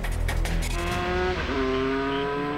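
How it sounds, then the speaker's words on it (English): A high-speed motorcycle launches at full throttle at a racing start, a loud close engine roar climbing steeply in pitch as it accelerates away, with a brief shift partway through. "takes off full throttle"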